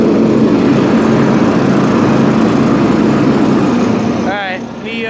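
A 1980s Honda HT-R 3009 riding mower runs with its blades engaged, a loud steady engine drone and whir close up that fades slightly near the end, where a brief whistling tone sounds.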